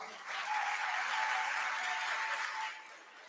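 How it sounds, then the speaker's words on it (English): Graduating seniors at a Leto High School awards event give a short round of applause, a dense burst of clapping that swells and then fades after about three seconds. "Give yourselves one more round of applause"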